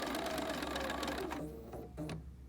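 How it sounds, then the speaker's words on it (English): A BERNINA jumbo bobbin sewing machine stitching scrap fabric, running in a fast steady whir of needle strokes that slows and stops partway through, leaving a couple of short mechanical clicks. "So now I can go in on my little piece of scrap fabric and I can stitch, stitch, stitch, stitch, stitch."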